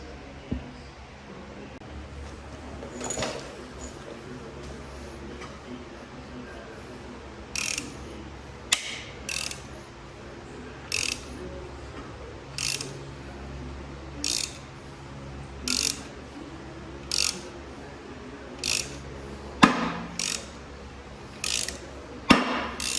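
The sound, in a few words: 3/8 ratchet tightening down on an LS engine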